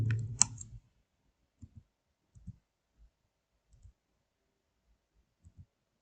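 Mouse clicks while working in a spreadsheet program: one loud click at the start, then a scattering of quiet, separate clicks spaced out across the rest of the otherwise silent stretch.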